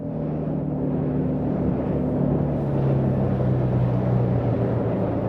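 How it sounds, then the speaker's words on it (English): A Suzuki DF250 outboard engine on a Tullio Abbate Sea Star 22 RS boat roars steadily and loudly on a lake, a deep continuous drone with a low hum underneath and no breaks. "Nice to hear the roar of this engine."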